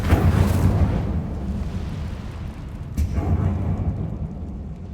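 In Hogwarts Legacy, the Incendio fire spell goes off as a loud whooshing burst that fades into a rumbling crackle, followed by a second sharp flare a few seconds later, with no talking.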